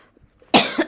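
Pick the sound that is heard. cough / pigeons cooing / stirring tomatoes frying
cough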